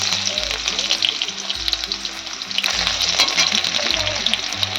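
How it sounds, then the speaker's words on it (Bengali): Potato pieces fried in oil until reddish, a steady close sizzle with regular scraping stirs of a spatula in the pan. "আলুটা লাল করে ভেজে নেব।"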